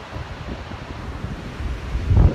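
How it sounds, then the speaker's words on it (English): Ocean surf at a surfing beach in Nosara, Costa Rica, a steady low wash of breaking waves mixed with wind buffeting the microphone, building to a louder rumble near the end. "So these waves are pretty spectacular."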